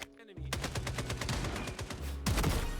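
Sniper rifle fire in the FragPunk shooter game, with sharp, loud cracks over rapid clattering game effects and a heavy boom near the end, all packed tightly together with no pause.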